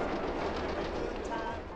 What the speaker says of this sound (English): Eventually, you just drown out the sounds of the trains because you just hear them so often living right there.